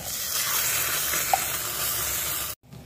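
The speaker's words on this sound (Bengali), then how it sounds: "অল্প পরিমাণ চিনি দিয়ে আমি মশলাটা ভালো করে ভেজে নেব" Ground spice paste with a little sugar fries in hot oil, giving a loud, continuous close-up sizzle that cuts off abruptly near the end.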